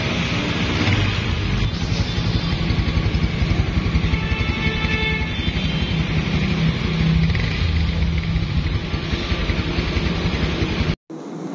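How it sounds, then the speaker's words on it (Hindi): Honda CB 150 motorcycle engine idling after a piston, ring and cylinder kit replacement, fitted with a new silencer; a steady, loud, even low rumble runs unbroken for about eleven seconds, then cuts out briefly near the end. "अभी इसके इंजन का साउंड कैसा है और सिलेंसर का साउंड कैसा है।"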